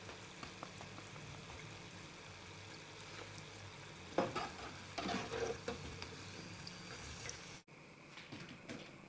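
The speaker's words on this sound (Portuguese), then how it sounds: "E eu vou continuar fritando da mesma maneira até terminar toda a massa" Pieces of dough fry steadily in hot oil for a homemade snack, a dense continuous sizzle and crackle with brief louder bursts of bubbling partway through, then a short drop before the sizzle resumes.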